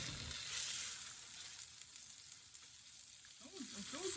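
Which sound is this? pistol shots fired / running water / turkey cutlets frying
turkey cutlets frying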